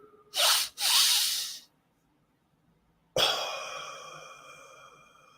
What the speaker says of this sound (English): Do a double breath.